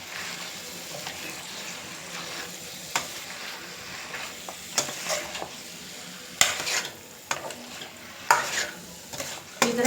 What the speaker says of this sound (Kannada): ಫ್ರೈ ಆಗಲಿ ಚೆಂದಾಗಿ